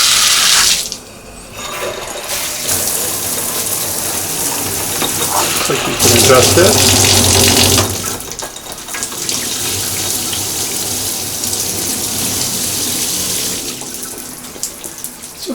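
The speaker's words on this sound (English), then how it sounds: "Very large shower head. Let's check out the pressure." A hotel shower runs with a steady loud hiss of spraying water from a very large shower head, close by, changing in tone partway through; someone speaks briefly over it.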